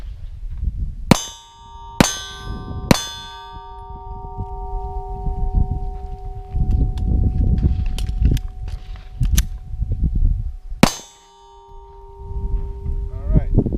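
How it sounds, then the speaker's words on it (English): A handgun fires its remaining rounds before a speed reload: three sharp, loud shots about a second apart, then rustling, handling noise and metallic clicks, and one final shot near the end, with faint talk in the background. "let's shoot out the rest of the bullets and then do a speed reload"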